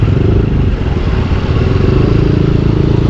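Two motor scooters, a Honda Click 125 and a Yamaha Aerox 155, ride past side by side. Their steady engine drone is loud and close and holds throughout, with a light rattle and no voices.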